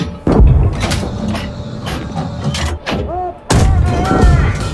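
A tank's main gun fires in the combat simulator GHPC, a sudden loud boom followed by mechanical clanks and rumble, with a second heavy blast near the end.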